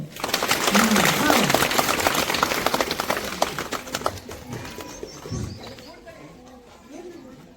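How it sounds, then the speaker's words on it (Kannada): Schoolchildren clap at a Republic Day event at a primary school, a dense burst of applause for several seconds that gradually fades, with a voice speaking over it. "ಹಂಗಂದ್ರೆ ಚಪ್ಪಾಳೆ ಹೇಳ್ರಿ"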